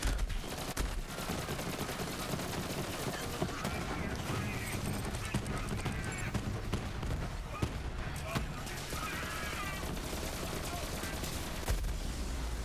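Rapid weapon fire in Borderlands 3, a burst of shots fairly loud against a busy game mix of effects and music, continuing in spurts across the stretch.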